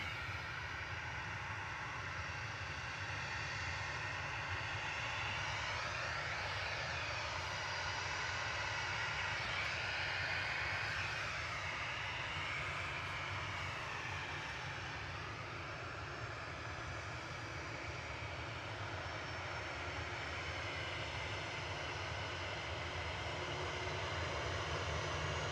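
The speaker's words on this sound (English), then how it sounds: "First A380 arrival of the day" Emirates Airbus A380 arriving at Manchester from Dubai, a sustained loud jet engine roar with sweeping whine tones as it passes, steady throughout with no voices.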